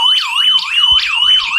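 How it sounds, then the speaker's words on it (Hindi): A home security device's alarm rings after a door is opened, a loud electronic siren sweeping up and down in repeated rapid wails, steady and close, with no talk. "अलार्म आपका बजने लग गया"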